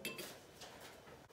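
A spoon clinks against a bowl while chopped parsley and finely minced garlic are stirred together, quiet scraping and light taps over about a second.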